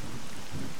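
Rain pouring in a video game, a steady broadband hiss of downpour with low rumbling swells, continuous and fairly loud with no voices.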